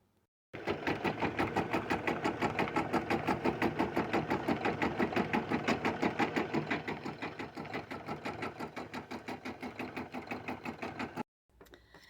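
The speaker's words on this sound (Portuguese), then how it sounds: "Eu vou voltar o meu bastidor para a máquina e ela vai prender para mim esse tecido" An embroidery machine stitches fabric onto a hoop in a fast, steady mechanical rhythm of rapid needle strokes, running loud and close for about ten seconds before stopping briefly and starting again.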